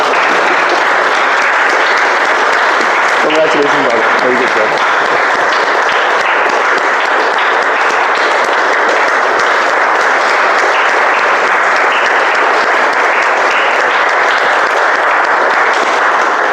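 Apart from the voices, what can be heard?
audience clapping at a Toastmasters meeting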